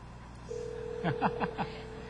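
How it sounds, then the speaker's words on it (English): Pocket PC Phone Edition handset ringing during a live demonstration, a steady electronic tone followed by a quick series of four pulsing beeps, faint and close. "And somebody's calling me."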